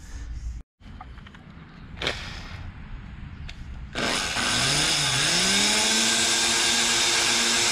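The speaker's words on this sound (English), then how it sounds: "I'm gonna go ahead and start drilling that out." A drill bores out punched indentations in the front bumper of a lifted 2006–2011 8th-gen Honda Civic, spinning up midway into a loud, steady whine after a few light knocks.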